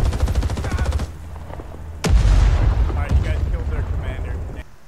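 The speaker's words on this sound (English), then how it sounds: "Sorry in advance, I threw a grenade." A grenade goes off in a Vietnam War video game: a sudden, loud, booming blast midway that rumbles on. Rattling gunfire comes just before it, and voices follow.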